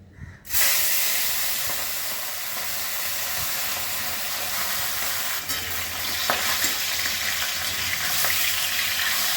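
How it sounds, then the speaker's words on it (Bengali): Rohu fish pieces fry in hot oil, a loud, dense sizzle that bursts in suddenly and then holds steady and close, with faint pops and no talking. "প্রথমে আমি মাছগুলো ভেজে নিচ্ছি।"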